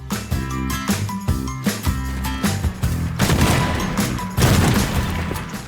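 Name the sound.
shotgun firing in a video game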